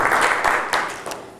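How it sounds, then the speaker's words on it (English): A conference audience at a Kickstarter Academy event claps for Tanya Sire, a crowd of hands applauding in a burst that thins and fades, with a few sharper individual claps standing out toward the end. "A big round of applause to Tanya Sire."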